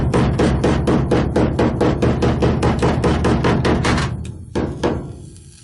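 Rapid, steady metallic small-hammer blows ring out close by, straightening Volkswagen Kombi sheet metal, dozens of quick strikes in a row, then slowing to a few scattered taps at the end.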